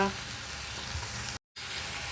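Steady broadband sizzle of tamarind and coriander frying in hot oil for chutney, with a short silent dropout partway through before the sizzling resumes.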